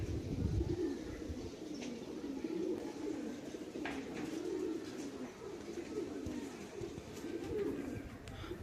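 Homing pigeons returning from a 17-kilometre race coo in a continuous low, throaty murmur as they arrive and land, with a few faint chirps and soft flutters scattered throughout.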